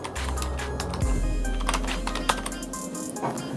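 Typing on a computer keyboard, light scattered key clicks at close range over a steady low hum.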